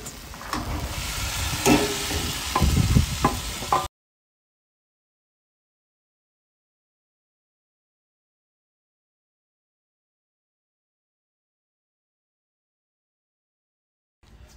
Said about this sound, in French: nos mojettes vont cuire pendant 10 minutes